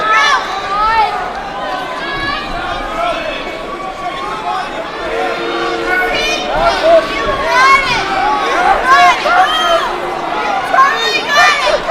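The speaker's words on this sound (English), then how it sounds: "Definitely sounds like the crowd's getting restless." A restless crowd at a fight event, with a loud, continuous swell of shouting, yelling voices and chatter, building in intensity toward the end.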